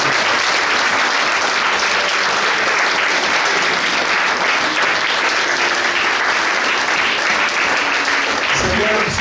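Congregation in a French-speaking church clapping and cheering in praise, a loud, dense, sustained applause that holds steady throughout with no gaps.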